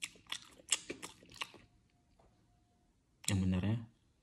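Someone chews food, with a run of close, crisp crunching clicks followed by a short stretch of talking.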